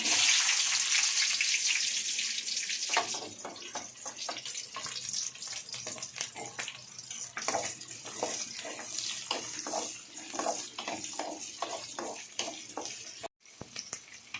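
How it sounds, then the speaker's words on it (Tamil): Onions added to fenugreek and fennel seeds frying in hot oil, a loud hiss and sizzle at first that settles into steady crackling and sputtering. "இப்போ வந்து கட் பண்ணி வச்சுக்கிட்டு வெங்காயத்தை சேர்த்துக்கலாம்"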